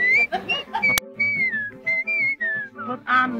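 Someone whistles a bright, wavering tune in short phrases during tree felling work, with a single sharp click partway through and nobody else heard.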